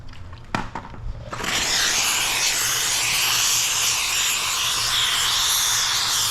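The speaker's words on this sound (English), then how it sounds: "Let's get all ready, and then we'll throw some steam on this." A handheld steamer hisses loudly and continuously as it steams paint protection film on the front bumper of a Lotus Evora, starting after a few brief clicks and a short quiet lead-in.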